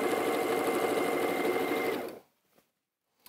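A sewing machine stitching fabric pieces together for a design roll, a loud continuous motor whir for about two seconds before stopping abruptly, followed by near silence and a faint click.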